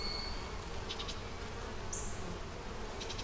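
Honey bees swarm and buzz steadily around an open hive box holding brood, eggs, larvae and honey, making a dense, continuous drone close by with no talk.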